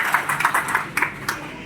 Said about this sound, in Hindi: एक जोरदार ताली आपके अपने लिए